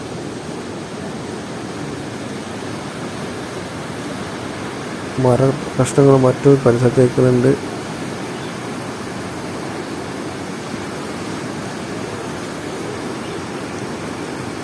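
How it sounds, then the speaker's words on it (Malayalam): Muddy floodwater rushes steadily below the Wayanad landslide, a loud constant roar throughout, while someone speaks briefly over it near the middle. "വെള്ളം നന്നായി കലങ്ങി ഒഴുകുന്നുണ്ട്."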